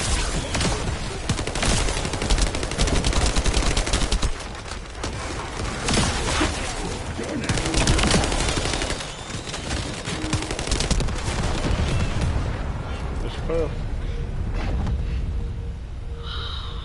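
Dense, rapid gunfire from the co-op shooter The First Descendant rattles almost continuously in loud bursts, with brief lulls before the shooting resumes, close and dominant.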